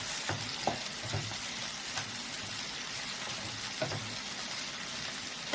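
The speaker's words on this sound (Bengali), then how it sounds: "ভালো করে নাড়াচাড়া করে নিচ্ছি।" Fish masala, parshe fish in oil with grated ginger, being stirred in a pan, giving a steady, close oil sizzle with soft scraping strokes of the spoon and no talking.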